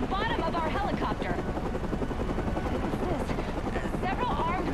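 A helicopter hovers in the Batman Arkham Origins video game, its steady, loud rotor and engine roar continuous throughout, mixed with game sound effects and voices speaking over it.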